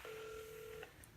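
Telephone keypad dialing tones, a sustained dual-pitch beep of nearly a second followed by a short second tone, quiet and alone.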